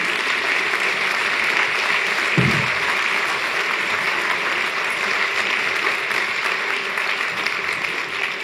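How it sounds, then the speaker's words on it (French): A seated audience at a theatre season presentation applauds with a steady, dense wash of clapping that carries on without a break and dominates throughout. "Je vous demande d'applaudir Monsieur le maire Serge Grouard et Laurence"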